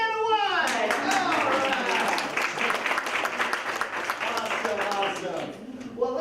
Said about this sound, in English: go ahead and give a big round of applause for our very own Vanna White